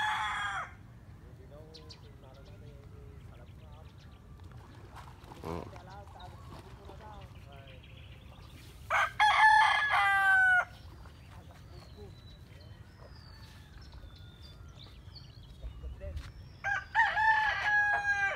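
Gamecocks on a rural farm crow in two loud, drawn-out calls, one near the middle and one near the end, over quiet countryside ambience, with someone speaking at times.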